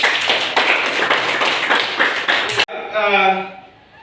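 Classroom students clap their hands together in quick unison, a dense burst of claps that stops abruptly, followed by a voice speaking.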